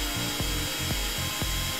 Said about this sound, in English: Drill into the highlighted holes as shown.